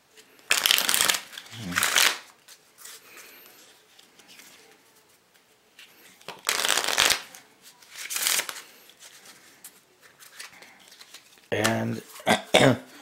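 A warped Opium deck of playing cards being shuffled in loud, brief riffling bursts, about five or six rounds spaced across the stretch, with a few coughs or throat clearings between them.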